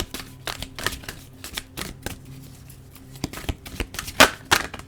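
A deck of cards is shuffled close by, with brisk riffling bursts and sharp snaps in an irregular rhythm.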